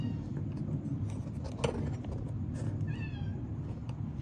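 Indoor cat meowing at a door, wanting to go outside, a few short mews and one rising cry heard close over steady low household hum.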